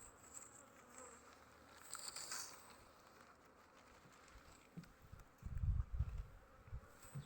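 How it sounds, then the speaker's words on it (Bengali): Honeybees buzz around their hive in a faint, continuous drone, with a few soft, low thumps near the end. "যেগুলোতে মৌমাছি বের হয় এবং মধু সংগ্রহ করে আবার তাদের ঘরে ফিরে যায়।"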